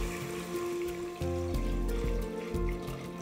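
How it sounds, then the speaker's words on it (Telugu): Water poured into a pot of rice while making Hyderabadi biryani, a steady splashing fill running close and moderately loud through the whole stretch, with a low droning hum underneath. "దీని లోపల ఇప్పుడు మనం నీళ్ళు యాడ్ చేద్దాం."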